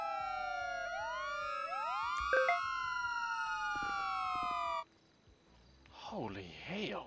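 Police sirens in a roleplay driving game wail in overlapping sweeps, then cut off abruptly partway through, followed by a short warbling electronic burst and a voice.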